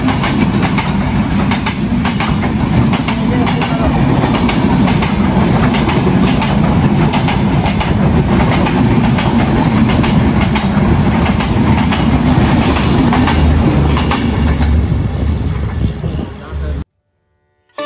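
A passenger train on the Ishwardi to Dhaka route rumbles steadily with a loud, continuous roar and faint clickety-clack of the wheels, heard from inside a carriage before cutting off near the end.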